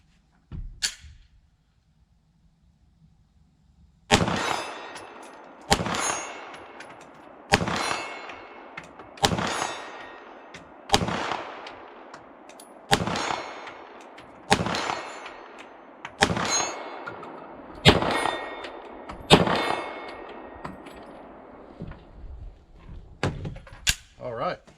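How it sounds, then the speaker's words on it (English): Sig Sauer P320 X-VTAC pistol fired repeatedly at a steel plate 40 yards away, about a dozen loud shots at a steady pace, each followed by a ringing metallic clang from the plate, no talking. "let's take some shots at our 40-yard plate"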